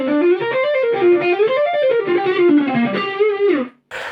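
An electric guitar played through a Fender Deluxe Reverb amp rings out a sustained, wavering melodic line with rich harmonics, alone and fairly loud, cutting off abruptly before a short burst of noise.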